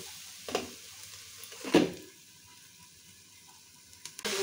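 A spatula stirs a kofi vegetable bhaji with chili powder frying in a pan, giving a few sharp scrapes and clinks over a soft, steady sizzle.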